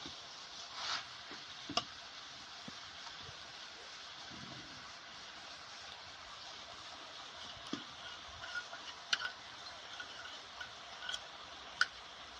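Yogurt mixed with spices goes into ridge gourd cooking in a pan and gets stirred. A faint, steady sizzle runs throughout with scattered light clicks and scrapes from the spoon.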